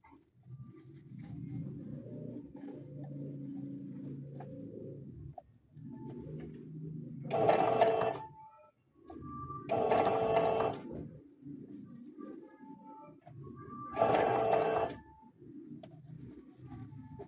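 A sewing machine stitches a tote bag in several runs of a few seconds each, a steady close whirring broken by short pauses, with occasional louder clattering bursts.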